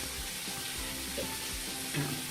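Curry leaves hit hot oil while kadalai theeyal is being cooked, giving a steady close sizzle and crackle with a few small pops and stirring scrapes. No one speaks.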